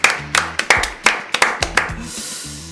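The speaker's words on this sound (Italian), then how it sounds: "Facciamo un applauso per Massimo, facciamoglielo." Sharp hand claps in an uneven run of about nine, close and fairly loud, with faint low musical tones beneath, given for Massimo during a session reviewing subscribers' videos.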